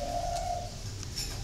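Caged doves at an online dove market, giving a soft, short coo over a steady background murmur.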